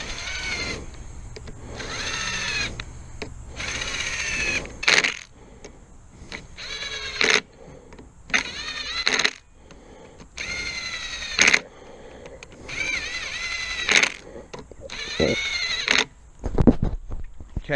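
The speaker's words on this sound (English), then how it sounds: "that's an impact gun, not a screw gun" An impact gun tightens the clutch bolts on a 1996 Suzuki RM250 dirt bike during an EBC clutch rebuild, firing about eight short whining bursts with brief pauses between them, close up and with no speech.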